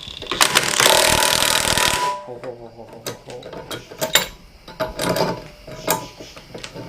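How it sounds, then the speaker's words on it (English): An impact wrench gives a loud burst of hammering on a solid truck axle being torn down, followed by sharp metallic clanks and ratcheting of a pipe wrench, all close up. "Little pipe wrench action. With some impact action."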